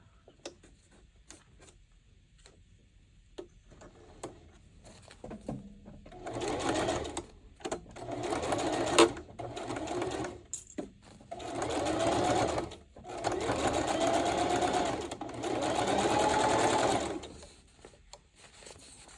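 A sewing machine stitches a zipper bag made from Dollar Tree prints, whirring in several loud bursts separated by brief pauses and quiet handling noises.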